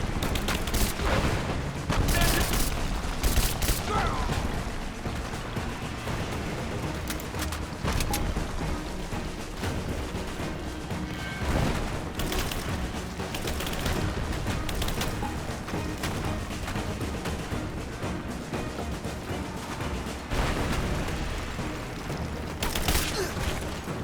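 Gunfire from the video game Rise of the Tomb Raider crackles in continuous loud bursts and booms through the whole stretch, a dense firefight with little pause.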